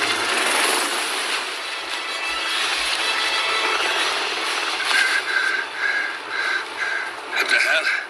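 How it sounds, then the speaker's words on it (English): Helicopter lifting off in the Hitman 3 video game, a steady engine whine and rotor rush with rhythmic blade chopping emerging toward the end, while voices talk over it. "Alexa Carlisle's helicopter just took off."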